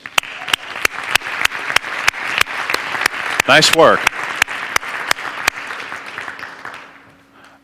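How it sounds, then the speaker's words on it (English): An audience claps steadily in loud, sustained applause, with a few sharp claps standing out, then the applause tapers off; a voice speaks briefly over it. "Round of applause for these folks."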